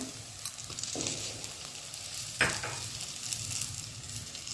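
Mixed vegetables and tomato fry in a pan with a soft, continuous sizzle, close but quiet, broken by a couple of brief scraping stirs and one sharper clatter partway through, with no talking.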